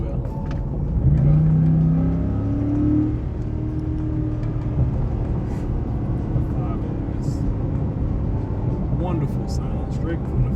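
A 2026 Ford F-150 Lobo pickup accelerates from inside the cab, engine note rising in a low hum that settles into a steady drone, with road rumble beneath and a voice speaking over it.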